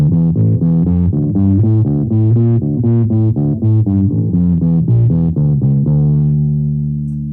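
A distorted, growling electric bass plays a steady riff of repeated low notes, loud and close, with the last note ringing out and fading.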